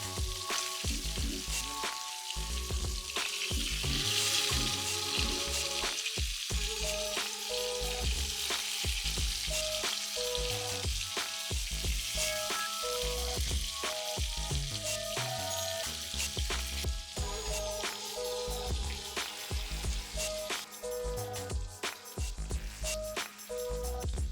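Mackerel fries slowly in a pan over a low flame, giving a steady loud sizzle with bubbling crackles throughout that carries on alone without a break.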